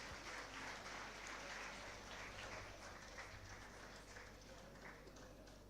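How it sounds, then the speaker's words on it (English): Conference audience applause for best paper awardees, quiet, distant clapping that runs steadily for several seconds with a faint low hum underneath. "Please give them a big round of applause."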